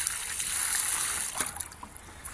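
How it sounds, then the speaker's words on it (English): Water poured over a waterproofed RC car, a steady bright hissing splatter that fades toward the end, close and moderately loud. "I'm just going to wet this car up so you can see that this one still works"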